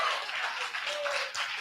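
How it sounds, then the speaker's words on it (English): An audience at a Miami event claps together in a steady, dense wash of applause that holds for the whole stretch, fairly close and without talking on top. "So clap it up for Melitza, please."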